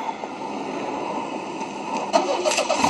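A car engine cranks and catches in the zombie mode of the video game Survivor Royale, with glitchy car audio: a steady mid-pitched engine drone that turns rougher and louder with some revving toward the end.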